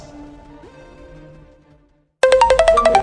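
A phone ringtone plays loudly on speakerphone, a bright repeating melodic pattern of pulsed tones, after a quieter stretch of faint background sound.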